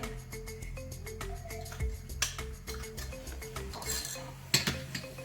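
Grated coconut roasting in a pan, a utensil stirring it continuously with rapid, regular metallic clinks and scrapes close by, a few louder knocks standing out.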